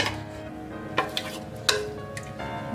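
Spoon stirring boiled eggs into Hyderabadi egg biryani gravy in a pan, with a few sharp clinks of utensil on metal over a soft simmering hiss.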